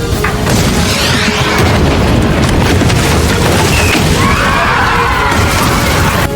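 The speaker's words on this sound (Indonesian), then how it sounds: "Kujiranami mulai menembakkan meriam ke arah pusat kota" A loud booming cannon blast from a ship firing on a city centre rolls into a sustained, crashing roar that fills the whole stretch without letting up.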